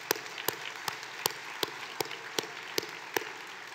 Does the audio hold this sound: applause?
yes